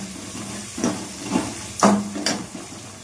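Green chillies, shallots and onions hit hot oil with mustard and fenugreek for a fish curry, setting off a steady frying hiss punctuated by several sharp sizzling bursts as pieces drop in.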